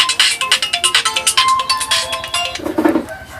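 A phone ringtone trills in a steady rapid pulsing pattern, loud and close, for about two and a half seconds before it stops and a brief low sound follows.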